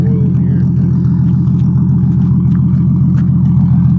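Deep, rumbling car exhaust note from a turbocharged engine with an oil-smoking problem, a steady low drone held at idle or light revs, close and loud throughout.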